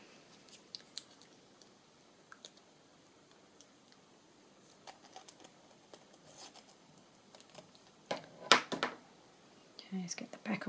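Scissors snip paper during a handmade literary-themed craft journal project: scattered quiet handling clicks, then one sharp close cut near the end, with soft rustling afterward.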